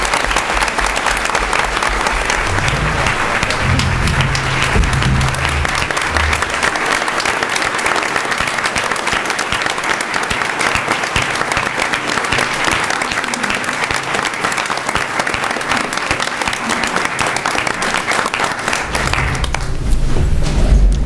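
Sustained applause from an audience at a school district board meeting, loud and dense for nearly twenty seconds before fading out at the end.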